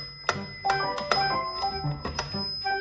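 A metronome-like bell chimes at regular intervals, about every 0.4 seconds, ringing bright and clear with short decays, marking every two beats in a music lesson on time signatures; no one speaks.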